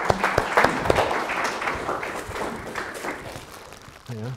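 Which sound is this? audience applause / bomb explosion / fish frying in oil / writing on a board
audience applause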